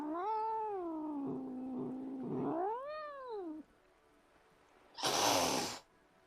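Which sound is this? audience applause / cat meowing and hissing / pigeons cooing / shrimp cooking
cat meowing and hissing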